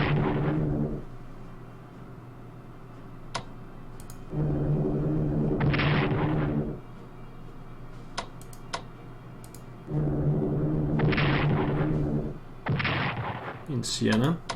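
Bombing explosions in the strategy war game Strategic Command, set in the 1944 Allied campaign: several loud, heavy booming bursts come at irregular intervals, with faint clicks in the quieter gaps between them.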